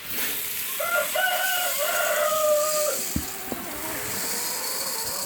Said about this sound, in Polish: Kur zapiał.